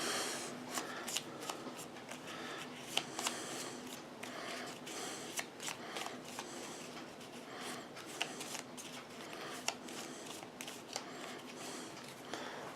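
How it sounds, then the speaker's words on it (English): Cards riffle and snap in repeated quick bursts, close and crisp, with short pauses between shuffles throughout. "So he gets to shuffle these."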